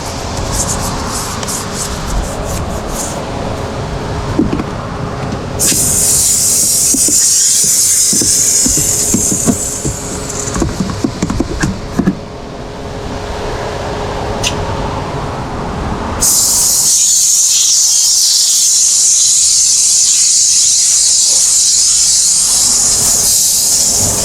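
A steam cleaner hisses during car interior detailing, with long loud bursts of hissing spray that switch on and off between quieter stretches of scrubbing and handling noise.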